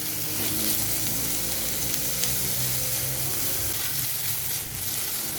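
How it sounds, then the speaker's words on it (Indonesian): Shallots, garlic, meat and sausage sizzle in a pan, a loud, dense, continuous frying hiss that holds steady throughout with no talk. "Bawang merah bawang putih ditumis dulu sampai harum, baru kemudian dimasukkan potongan daging yang tadi kita buat di awal dan sosis."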